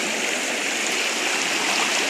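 Water rushes steadily along a farm stream, a continuous broadband flow heard close by with no pauses or voices.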